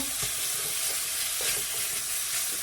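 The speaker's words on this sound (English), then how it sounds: "let me mash up this sausage as it starts to cook" Breakfast sausage sizzling steadily in a hot pan while it is mashed and stirred, a loud, dense, continuous frying hiss with faint scraping and no talking.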